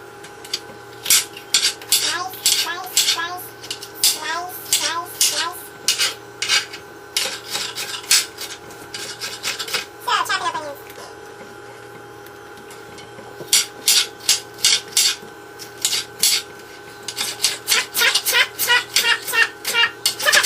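Whacking and cutting an onion in a home kitchen: sharp repeated knife chops and thuds on a board in quick bursts, with rasping cuts between them and short pauses, close and fairly loud.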